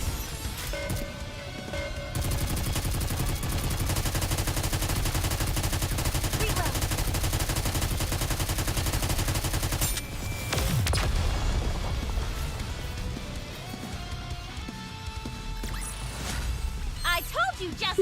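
Sustained automatic gunfire fills the video game Goddess of Victory: Nikke, a loud, rapid machine-gun barrage that breaks off briefly midway with a crash, then resumes more sparsely among other game effects.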